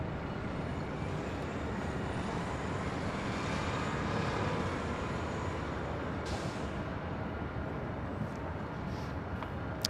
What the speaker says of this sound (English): Next arrival here on the north side is Southwest Airlines Flight 1915, coming in from Denver, Colorado